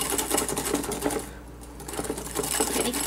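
Three egg yolks being whisked with a quarter cup of sugar, a rapid, fast-rattling tapping of a whisk against a bowl, close and steady with a brief pause midway.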